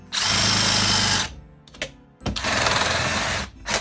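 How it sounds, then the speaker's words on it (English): A drill with a 1-inch spade bit bores a hole in two loud, close bursts of whirring, separated by a short pause with a few brief blips. "I'm going to try a 1-inch spade bit. I'm going to make a hole here."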